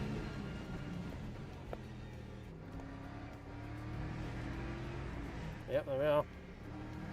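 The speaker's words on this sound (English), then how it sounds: "Gonna have the hypercars here soon by the looks of it." Race cars roar on track in the Le Mans Ultimate racing sim, a steady engine drone with a rising whine near the end as hypercars close in, with someone talking over it.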